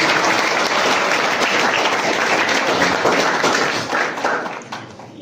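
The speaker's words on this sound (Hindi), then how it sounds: "जोरदार ताली" A crowd at a national drama festival in Rajouri, Jammu and Kashmir applauds vigorously, a thick continuous wash of clapping that stays loud for several seconds before thinning out toward the close.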